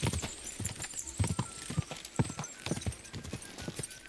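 Rhythmic clip-clop of horse hooves trotting in the video game Kingdom Come: Deliverance II, clear and close, with a brief whinny and some faint background noise.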